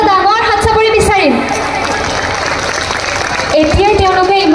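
An audience claps loudly at a Bihu stage performance, a dense burst of applause that swells between a voice speaking at the start and again at the end.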